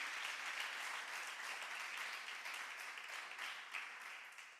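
Church congregation applauding loudly and continuously, a dense wash of many hands clapping together that holds steady throughout, with no talk over it.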